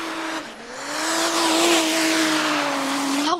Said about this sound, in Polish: Typ startuje Mercedesem w kombi z dieslem pod maską.